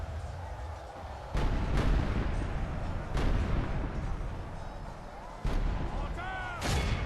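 Cannon and mortar fire in a Medieval 2 Call of Warhammer battle with the Empire's artillery: roughly five loud booming shots spaced irregularly, each jumping above a continuous rumbling battle din, with a brief tonal call near the end.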